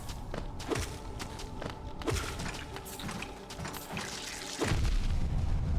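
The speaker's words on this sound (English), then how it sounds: "Occasionally drop an explosion." Enemy-dropped explosions in Hollow Knight land as dull booms and thuds among scattered footsteps and mechanical clanks, with a heavier rumbling blast near the end.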